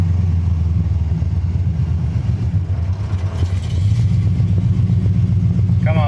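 An EFI-converted AMX car's engine drones steadily and fairly loud while driving in second gear, a low continuous hum with slight rises and dips in pitch throughout.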